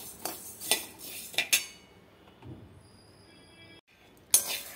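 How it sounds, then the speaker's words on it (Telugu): Toor dal is dry-roasted in a pan on a low flame, with a spoon scraping and clinking against the metal in several sharp strokes, then a quieter stretch with a faint whine before one last clink. "స్టవ్ సిమ్లో పెట్టుకొని వీటిని కూడా 1 నిమిషం పాటు వేయించుకోవాలి."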